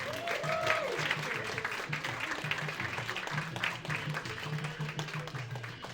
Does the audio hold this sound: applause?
yes